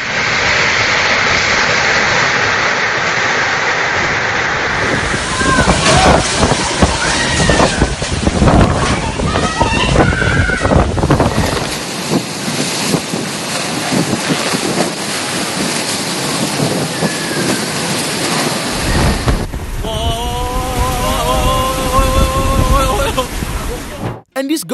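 Strong winds and heavy rain lash Hong Kong in a storm, a loud, constant roar of gusts buffeting the microphone and rushing water that persists throughout, with voices speaking over parts of it.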